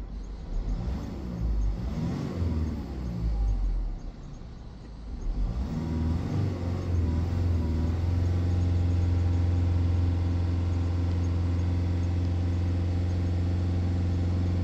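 Land Rover Defender engine with a P049B-00 fault, revving and then holding steady around 3000 RPM, a loud continuous hum with strong low drone that rises after a brief dip and stays constant to the end.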